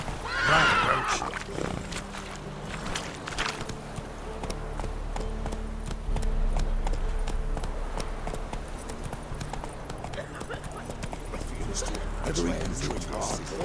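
Roach, a horse in The Witcher 3, galloping with rhythmic hoof clip-clops and a whinny near the start, beneath steady background ambience while voices talk.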